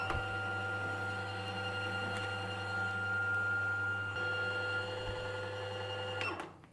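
A Singer SE 9185 sewing and embroidery machine winds its bobbin with a steady, even motor whir held at one pitch, close by and without speech, then winding down and stopping near the end.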